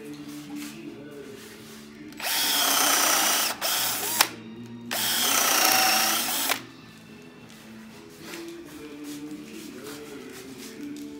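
A power drill drives screws into wood while building a pigeon house, whirring loudly in two sustained bursts of a few seconds each, with a brief stop between them and quieter workshop noise before and after.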